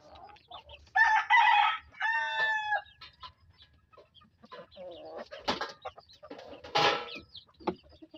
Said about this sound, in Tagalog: Pero darag native chicken ito guys, magkaiba.